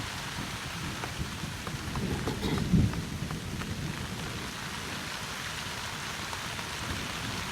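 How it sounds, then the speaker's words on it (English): A thunderstorm with steady, hissing rain on surfaces throughout and one low, rolling rumble of thunder building and peaking a few seconds in, with no voices. "because of this thunder and lightning"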